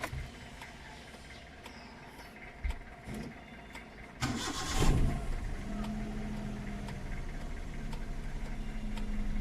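Faint clicks and ticking, then a Hyundai Eon car engine cranks and catches after intake manifold work, settling into a steady idle nearby.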